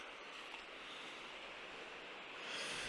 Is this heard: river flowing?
yes